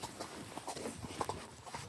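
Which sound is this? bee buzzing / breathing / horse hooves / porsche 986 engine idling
horse hooves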